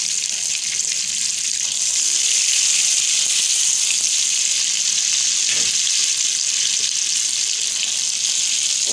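Chana dal paste frying in a pan over medium to low flame, a steady hissing sizzle that holds evenly and fairly loud throughout, with no talking.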